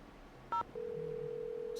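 A telephone in the Nancy Drew game The Secret of Shadow Ranch: a short two-tone dial beep, then a steady ringback tone held alone in a quiet scene, with another faint beep at the end.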